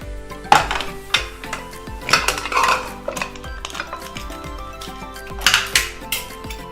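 A pressure cooker lid is opened after two whistles of cooking pumpkin, giving sharp metallic clanks and scrapes in a few irregular bursts, close by and fairly loud.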